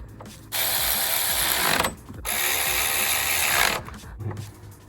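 A small powered tool tightens wheel bolts on a Skoda Fabia vRS in two loud, buzzing bursts of about one and a half seconds each, with a short pause between, followed by quieter clicks of handling.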